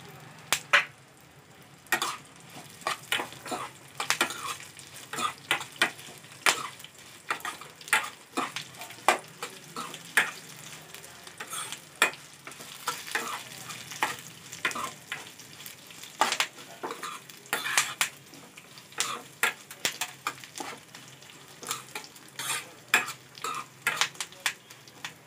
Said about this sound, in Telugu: ఇప్పుడు ఇందులో 1/4 కప్పు కరివేపాకు వేసుకుందాం.